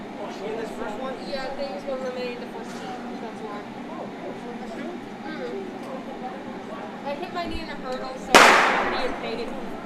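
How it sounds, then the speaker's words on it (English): Starting gun fired for a girls' 300-meter dash heat at an outdoor track meet: a single sharp, loud crack near the end, after crowd chatter and an announcer's voice. "And the gun is fired for the first of 5 heats of the 300-meter dash."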